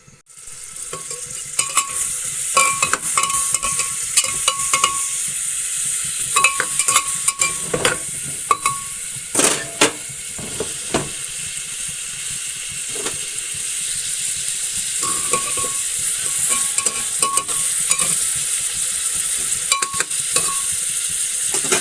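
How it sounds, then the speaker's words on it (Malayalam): Onions fry in sesame oil inside a pressure cooker, a loud continuous close sizzle broken by repeated scraping and stirring clatters against the metal, with no voices. "നല്ലെണ്ണ ചൂടായി കഴിഞ്ഞാൽ ഒന്ന് നല്ലെണ്ണ ഒന്ന് വാടണം കേട്ടോ ഉള്ളി കുറച്ച് സമയം വാടണം"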